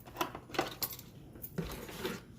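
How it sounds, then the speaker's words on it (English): Spoon scraping and tapping against a bowl while brownie batter is mixed, a handful of irregular clinks and scrapes spread across a couple of seconds, close and fairly quiet. "you just need to mix the ingredients in"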